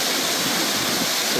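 Broad, steady roar of a waterfall in Rocky Mountain National Park at the top of a steep climb, loud, close and unbroken throughout.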